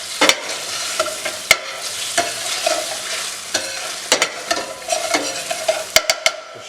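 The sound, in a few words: stirring tomato puree frying in a pan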